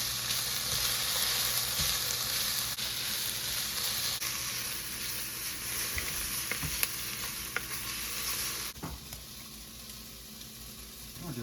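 Smash burger patties sizzle loudly on a hot griddle in a home kitchen, a dense continuous frying hiss with occasional scraping and tapping that drops off sharply near the end.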